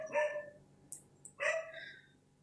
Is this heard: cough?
no